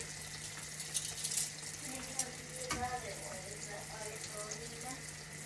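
Homemade ring doughnuts frying in olive oil, giving a faint, continuous bubbling sizzle with small crackles, under a person talking nearby.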